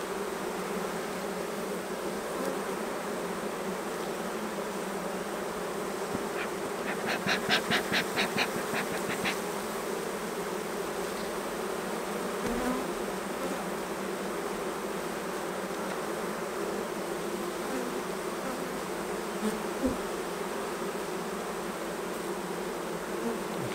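Continuous buzzing of a honeybee colony in an open hive, a dense steady drone close by, with a brief louder flurry of wingbeats partway through.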